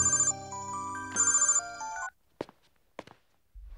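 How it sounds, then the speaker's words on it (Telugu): An electronic telephone ringtone plays a bright, repeating melody for about two seconds during a Telugu film scene, then cuts off and is followed by a few soft thumps and footsteps in a quiet room. "ఆ సూర్యగడికి ఫోన్ చేయి."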